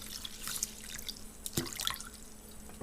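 Water splashes and drips into a pot of rice set to soak, close and fairly quiet, with scattered drips and a sharper splash partway through and no talking.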